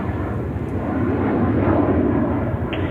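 An airliner takes off from runway 13 right at JFK Airport in New York, its engines making a steady, broad roar that swells slightly at a middle distance.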